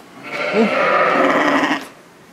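A sheep on a farm where newborn lambs have just arrived gives a single long, loud, wavering bleat close by, lasting over a second, with no talk.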